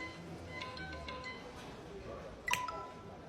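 A telephone gives a few faint, short dialing beeps against a quiet room background, ending with one brighter tone near the end.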